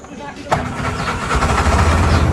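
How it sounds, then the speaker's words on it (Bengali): A Bajaj CNG auto-rickshaw engine cranks and catches, then settles into a steady, rumbling idle close by, growing slightly louder. "দেখি ইঞ্জিনটা সাউন্ড কীরকম"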